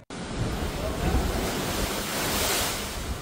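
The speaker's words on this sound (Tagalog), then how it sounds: "isang bahay at kabuhayan ang nasira dahil sa lakas ng hampas na naglalakihang alon" Large waves crashing on the shore at Iloilo City, a loud, continuous roaring surf close by with gusty wind buffeting the microphone.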